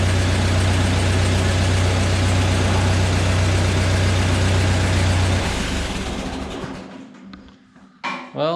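Ford 8N tractor engine running loud and close with a steady low idle rumble for several seconds, then dropping away as it winds down, followed by a couple of short thumps.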